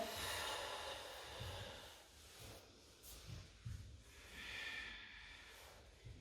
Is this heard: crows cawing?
no